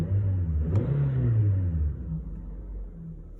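2020 Toyota Corolla LE engine revving just after starting, a mid-pitched hum swelling and falling back to a steady idle, heard close with no talking.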